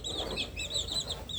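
Soft, high-pitched peeping and clucking from several small chicks, steady and close, with no talking.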